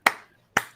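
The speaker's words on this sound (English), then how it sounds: "I appreciate nice slow clap." Two slow, deliberate hand claps, close and crisp, spaced about half a second apart, with no other sound.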